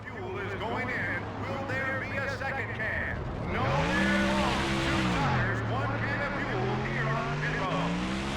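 NASCAR stock cars racing at Talladega roar past loudly, engine pitch rising then dropping as the pack sweeps by over several seconds, with a commentator talking throughout.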